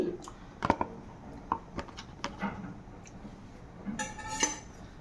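A spoon stirs aloo egg curry, with boiled eggs and boiled potatoes, in a pot: scattered soft clinks and scrapes against the metal, fairly faint, over a low background hiss.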